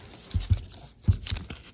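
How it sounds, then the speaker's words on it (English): Paper coin roll wrapper for silver half dollars being torn open by hand, a few short crinkly rips in two quick bursts, close and fairly quiet. "This paper has been super hard to open."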